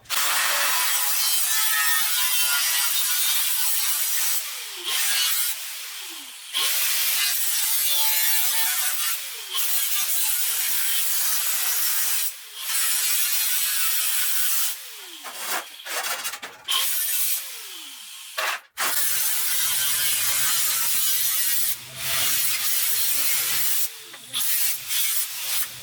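Metal being cut on an FSJ Cherokee Chief rock crawler build, bright continuous scraping cuts in repeated passes with short pauses between them, moderately loud and close.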